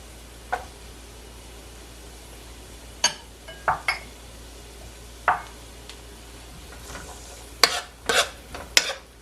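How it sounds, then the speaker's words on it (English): Peppers go into a hot pot for callaloo spinach rice with salted pigtails, a soft continuous sizzle broken by sharp spoon scrapes and clinks against the pot, clustered near the end. "So next I'm gonna add my peppers."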